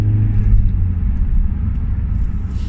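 Steady, loud low rumble from a 2009 Mitsubishi Lancer's turbocharged diesel engine, heard from inside the car as it holds moderate revs with a constant drone and no voices.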